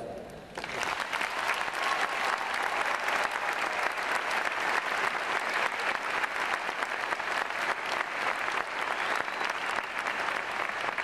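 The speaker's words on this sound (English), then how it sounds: "I would like all the families and friends here today to give a big round of applause for all your beloved graduates" Families and friends at the Providence College 2008 commencement give the graduates a big round of applause, a dense, sustained ovation that starts abruptly after a brief pause and rolls on evenly, loud and close, with no speech above it.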